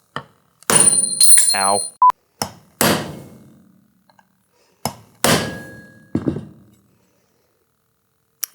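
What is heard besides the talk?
hammer peening bolts on Yamaha Tri-Z 250 basket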